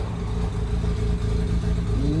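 A Mazda RX-8's rotary engine idles with a steady, slightly uneven low drone and faint clatter, heard close and alone for a couple of seconds.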